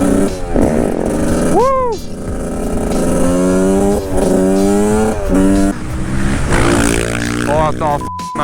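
A road-legal 125cc two-stroke motorcycle revs loudly and close, its raspy engine pitch rising and falling through repeated climbs, with a person whooping over the noise.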